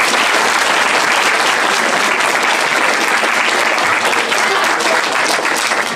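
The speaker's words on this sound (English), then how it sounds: "one more round of applause for our Roman legionnaires here" Loud, continuous applause from a large crowd at a Roman-themed performance, dense clapping filling the whole stretch without a break.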